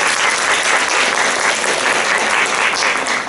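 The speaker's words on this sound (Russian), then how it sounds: "аплодисменты" Loud, sustained applause fills the hall at a lecture-concert on words and music, a dense, even roar of many clapping hands with no speech over it.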